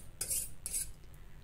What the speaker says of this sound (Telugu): గరిటెతో కలుపుతూ ఈ పిండిని కలుపుకున్న పిండిని చక్కగా కొద్దిగా వేసుకొని కలుపుకోవాలి